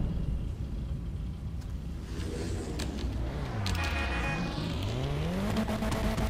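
An Elegy sports car in GTA Online revs and accelerates through gear changes, its engine pitch climbing and dropping repeatedly, with some tire noise at close range.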